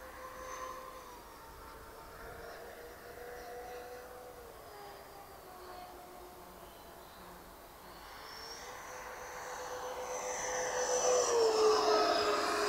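A twin 64mm electric ducted fan RC MiG-25 jet model by FlyFans makes a windy pass, its whine rising from a distant hum to a louder, sharper rush as it nears at the end.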